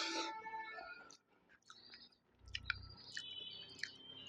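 Someone chews cooked shing fish, soft close-up mouth and chewing sounds at low volume with small clicks, alone and quiet.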